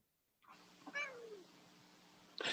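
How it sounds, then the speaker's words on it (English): A cat gives one clear, drawn-out meow, close and fairly quiet, against a soft background hum, followed by a sudden brief noise at the end. "Look at the kitty."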